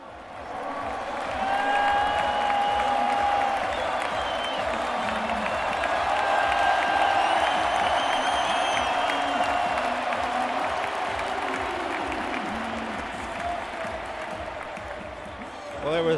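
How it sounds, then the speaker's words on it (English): A roadside crowd at a Tour de France stage finish in Marseille cheers and applauds in a sustained roar, with whistles and whoops rising and falling underneath commentators talking throughout. "Actually, Alberto Contador got a huge cheer, didn't he?"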